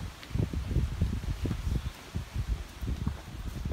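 Wind gusting outdoors among ancient ruins, buffeting the microphone in repeated low rumbling bursts with a steady rushing undertone and no voices.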